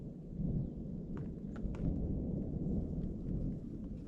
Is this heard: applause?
no